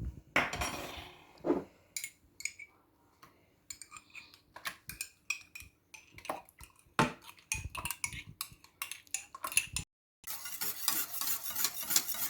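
Spoon stirring coffee mixed with plain yogurt in a bowl, giving a string of irregular scraping and clinking strokes with short pauses, close up and fairly quiet, with a denser burst of scraping at the end.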